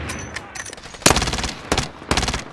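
Video game gunfire hammers out in dense, loud bursts of rapid shots. Quieter shooting comes first, then three heavy clusters of automatic fire sit close and dominate the mix.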